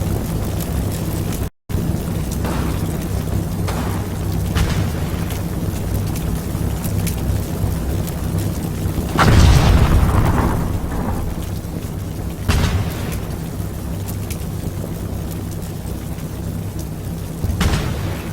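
A 105mm assault gun in Combat Mission fires shells at a building held by Germans, heavy booming blasts spaced several seconds apart over a constant low rumble of wind and distant battle.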